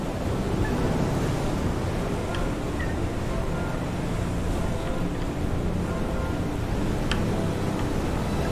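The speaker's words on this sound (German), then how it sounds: "Große Wellen." Ocean waves in FAR: Changing Tides make a dense, constant wash of surf and wind, loud and unbroken, with faint higher splashes.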